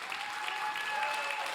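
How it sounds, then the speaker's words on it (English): Audience applause after a batch of startup pitches at a founders' competition event, steady and full, carrying on without a break through the whole moment, with no voices standing out above the clapping. "Can we have a round of applause to all the startups again,"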